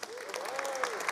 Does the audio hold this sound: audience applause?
yes